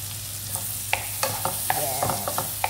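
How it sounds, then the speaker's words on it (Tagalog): Chopped onion sautéing in butter in a pan, a steady sizzle with a low hum underneath, broken by several sharp clacks and scrapes of a spoon stirring against the pan. "Ating igisa."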